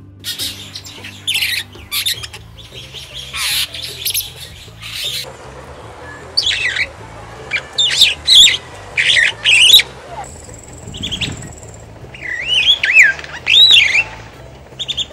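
A superb starling sings loudly and close, a long run of varied squawks, whistles and chattering bursts with short pauses between phrases.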